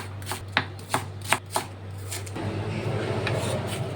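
Shallots, garlic, ginger and chillies sliced with a knife on a board, a run of sharp rhythmic chopping taps followed by softer scraping and rustling, over a low steady hum.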